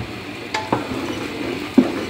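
Cooked sarson ka saag being beaten in a pot: soft wet stirring and mashing with a few clinks of utensil against the pot, close and fairly quiet.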